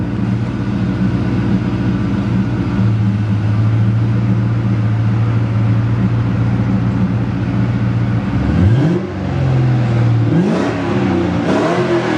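A Ford Mustang engine with a newly fitted exhaust idles steadily, then is revved in a couple of quick throttle blips that rise and fall near the end, loud and close.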